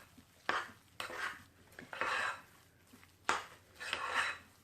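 Utensil scraping and knocking in a bowl while flour and egg are worked into a potato cake mixture, a few close bursts of clatter and stirring with quiet gaps between.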